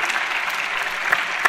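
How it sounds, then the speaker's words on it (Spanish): Brief burst of audience applause for Javier's birthday at a plenary session on young talent in the digital economy: dense, steady clapping from a crowd, with a couple of sharper claps near the end. "un aplauso para Javier"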